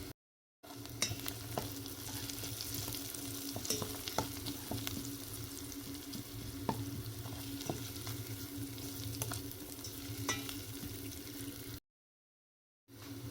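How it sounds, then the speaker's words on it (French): Onions sautéing in a pan for a West African village-style rice dish with soumbala, a steady close sizzle and crackle with occasional stirring scrapes, running continuously without talk. "quelques minutes après que l'oignon est bien sauté"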